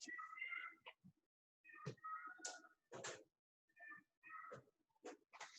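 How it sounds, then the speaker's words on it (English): A cat meows loudly and repeatedly in drawn-out, wavering cries, with short gaps between calls. "Cat really loudly meowing."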